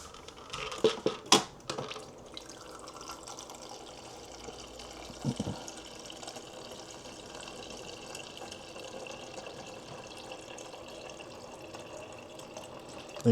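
Water runs from a tap into a shake bottle in a quiet, steady stream, preceded by a few sharp clicks and knocks of handling the bottle.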